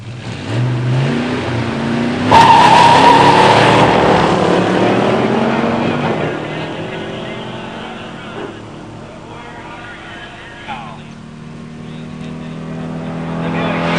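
Two 1970 muscle cars launch at a drag strip, a 429 SCJ four-speed Torino and a Stage 1 automatic Grand Sport, engines revving hard then roaring away and fading into the distance, with an announcer's voice nearby.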